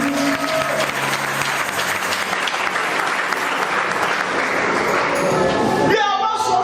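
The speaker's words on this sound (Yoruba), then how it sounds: "Pàtẹ́wọ́ fún Jésù ló wà wá." Church congregation at an annual revival convention clapping for Jesus, dense sustained applause from a large crowd that fills the space and ends with a sharp tail at the close.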